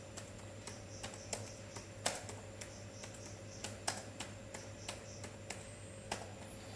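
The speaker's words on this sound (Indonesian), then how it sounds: "Lalu kita ketik lagi perintah seperti ini." Commands being typed on a computer keyboard to install a custom ROM on a Realme C21 phone. The key taps come in quick, irregular runs with a few sharper strikes, faint and close over a low steady hum, with no voices.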